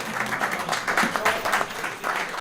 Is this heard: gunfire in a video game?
no